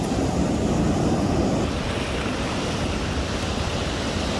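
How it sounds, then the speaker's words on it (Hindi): Stormy sea surf rolling onto Sandspit Beach in Karachi, a steady loud wash of breaking waves with heavy wind rumble throughout and no talk. "ये देखें पानी की रफ्तार देखें कितनी तेज़ रफ्तारी से पानी ये आ रहा है।"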